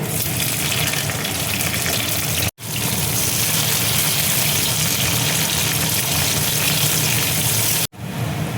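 Onions hitting a little oil in a pan for a soybean curry, giving a steady, loud, dense sizzle that fills the whole stretch, broken by two brief cuts, with no talking.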